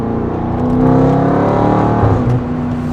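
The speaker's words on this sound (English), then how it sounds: "The blare when you get on throttle is really, really enticing and enjoyable" BMW G30 M550i with a full exhaust and free-flow downpipes revving hard, a loud, continuous throaty engine blare that swells and holds at high revs before easing slightly near the end, with no talking.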